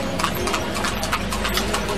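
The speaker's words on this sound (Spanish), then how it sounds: "Caballo bonito." Horse hooves clip-clop in a quick, even rhythm on a street in Egypt, close and clear above a constant low rumble of background noise.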